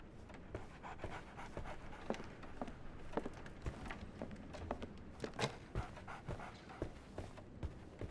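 A dog pants rapidly and close by in the video game Sherlock Holmes The Awakened. The breaths come in quick, continuous bursts for several seconds, with faint shuffling underneath.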